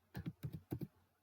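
A brief burst of keystrokes on a computer keyboard while entering a web address: about six quick, crisp taps in two small clusters, close and quiet, with no talk.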